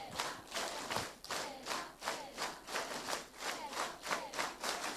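An audience at a celebration of Venerable Stephen Ferrando's priestly ordination claps together in unison, about ten evenly spaced, rhythmic claps, moderately distant and fairly soft.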